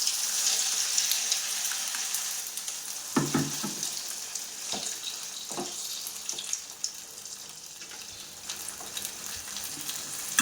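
Thick dosa batter fries in oil on a hot pan, giving a continuous sizzle with several sharp crackling bursts and faint clinks from a utensil, close and with no talk.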